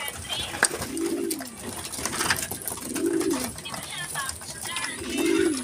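Racing pigeons coo in three low, rolling bursts about two seconds apart while feeding, close and clear, with someone talking intermittently over them.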